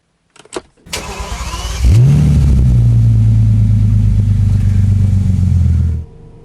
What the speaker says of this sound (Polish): odpalmy samochód i przejedźmy się nim w końcu